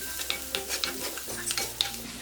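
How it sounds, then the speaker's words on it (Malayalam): Chopped ginger and garlic with roasted fenugreek powder sizzle in a hot pan for prawn ularthiyathu, a steady close frying hiss broken by a few soft stirring scrapes, with no talking. "അരിഞ്ഞു വെച്ചിരിക്കുന്ന ഇഞ്ചിയും വെളുത്തുള്ളിയും കൂടി ഇട്ട് വഴറ്റി കൊടുക്കാം"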